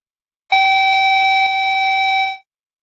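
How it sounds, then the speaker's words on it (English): A steady electronic calibration tone from a radio beacon, recorded slightly off frequency, sounds as one continuous loud beep with bright harmonics lasting about two seconds, then stopping abruptly, alone with no talk. "the other tone is for frequency calibration"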